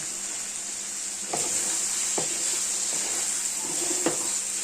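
Dried fish (shutki) sizzles steadily in a pan as it is fried down, with a bright continuous hiss. Several sharp scrapes and taps from a spatula cut through it.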